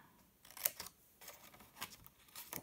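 Scissors snipping straight through card while making a small chocolate-bar box, several crisp separate cuts spaced over a couple of seconds, close and fairly quiet.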